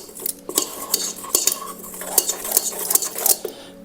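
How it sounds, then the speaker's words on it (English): A spoon stirs cocoa powder into a chocolate dessert mixture in a bowl, quick repeated metallic clinks and scrapes against the dish, close and steady with no talking. "give it a nice light stir just to make sure that the cocoa powder is mixed in nicely"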